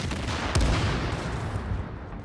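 Gunfire from shooting enemies in The Division: a single sharp, booming shot stands out near the start over steady game background noise, with no talking.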